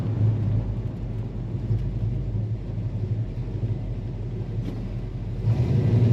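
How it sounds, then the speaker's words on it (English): A 1967 Chevrolet Bel Air idles steadily, its low, even engine rumble continuous and close throughout, with a slight swell near the end. "Very smooth idle."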